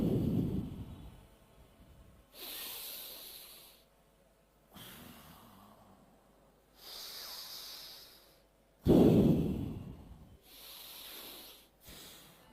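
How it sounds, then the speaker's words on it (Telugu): Alternate nostril breathing at an outdoor yoga day session, drawing air in through the right nostril: slow, close breathy inhales and hissing exhales repeat in a steady rhythm, with short quiet pauses and no talk. "ఇప్పుడు కుడి ముక్కుతో పీల్చండి."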